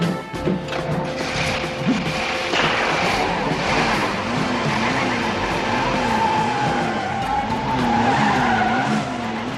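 A car engine revs with wavering pitch that rises and falls repeatedly, loud and close, with mechanical clatter and tire noise in the mix.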